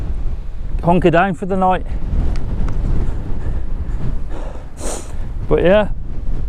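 Strong wind roars and buffets continuously near the foot of Moel Siabod, a low, loud rumble battering the microphone while someone speaks in short bursts over it.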